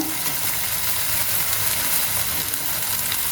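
Green chillies are dropped into hot oil with frying onion and garlic for a dried fish curry, giving a loud, steady, close sizzle that hisses without a break and with no talking.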